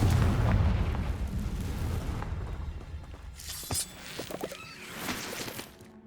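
Spell blasts from Confringo and Bombarda boom in Hogwarts Legacy gameplay, a loud opening explosion rumbling off, then a sharper burst with crackling debris and a further blast near the end.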